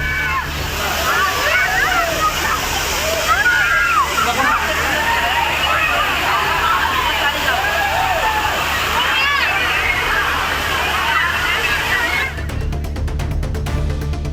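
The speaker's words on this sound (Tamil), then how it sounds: "அருவியில் கொட்டும் சில்லென்ற நீரில் சுற்றுலா பயணிகள் குழந்தைகளுடன் உற்சாகமாக குளித்து மகிழ்ந்தனர்." A waterfall pours loudly and continuously as tourists and children bathe and splash in the cold water, with a crowd babbling faintly underneath. The roar stops abruptly near the end.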